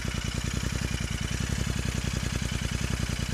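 A Royal Enfield Interceptor 650 motorcycle fitted with engine bars idles close by, a steady, even rapid thumping pulse with no voices over it.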